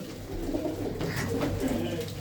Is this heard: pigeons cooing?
yes